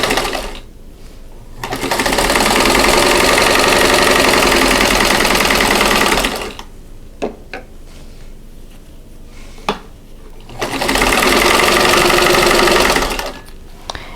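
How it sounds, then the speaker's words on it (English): A sewing machine stitches quilt block squares along a drawn line in two long, steady, loud runs separated by a pause with faint handling clicks, close up and with no talking. "So opposite corner here, and sew on the drawn line."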